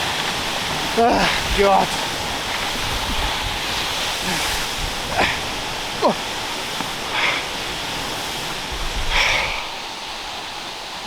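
Steady rushing roar of a small waterfall in the Valleys, close and drenching, continuous under a few brief spoken exclamations.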